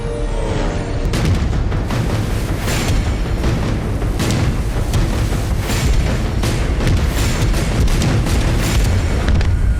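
A surfaced submarine fights an artillery battle with German sub-chasers, giving a loud, dense run of booming gun blasts and explosions. The rapid, repeated bursts come close together with no pause throughout.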